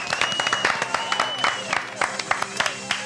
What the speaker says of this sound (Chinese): 掌声鼓励，耶！